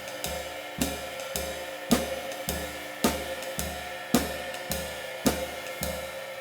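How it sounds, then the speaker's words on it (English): Swing groove on a full drum kit, all four limbs together, with a steady ride cymbal wash, regular accented beats about every 1.1 seconds and a low thump under each, played alone at moderate volume. "So here's a really simple exercise that we're going to do to start playing what's called a swing groove"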